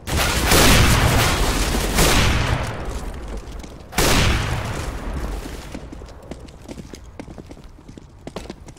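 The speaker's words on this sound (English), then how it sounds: "Deploying flashbang." Flashbang grenade explosions in Counter-Strike, two loud broadband bursts a few seconds apart, each decaying into a ringing wash, followed by scattered clicks and game noise.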